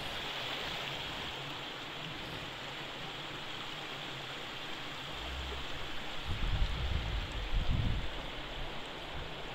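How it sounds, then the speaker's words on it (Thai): Water rushing steadily through a forest stream and waterfall, a dense continuous wash of flow with a few louder surges toward the end, with no voices. "พามาชมน้ำตก"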